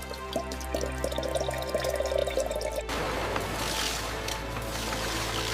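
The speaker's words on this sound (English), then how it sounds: "Pure coconut water is extracted from fresh coconuts with care." Water splashes and drips steadily as fresh coconuts are cracked open and their water extracted inside a modern coconut processing factory, with machinery hum under a continuous wet, trickling wash.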